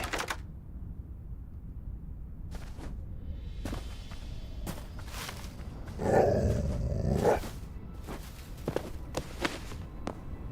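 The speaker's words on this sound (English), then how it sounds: "I heard another dog, but I can't see it." A dog in the video game Hytale, with a few low growls and barks at close range among scattered footstep thuds over quiet background noise, and a louder burst of snarling near the middle.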